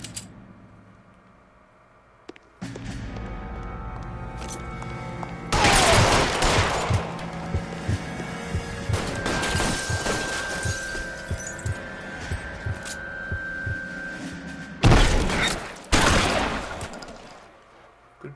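Gunfire from the video game L.A. Noire: sharp volleys of shots with clinks and metallic hits, loud bursts clustered around the middle and end, separated by quieter game ambience.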